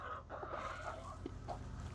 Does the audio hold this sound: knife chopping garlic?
no